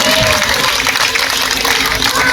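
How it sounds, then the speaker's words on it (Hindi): Loud crowd applause at an open-air Congress rally in Hisar welcoming Ashok Goyal, a dense continuous wash of clapping with crowd noise and voices mixed in underneath. "जोरदार तालियों से स्वागत भाई अशोक जी गोयल मंगाली वाला।"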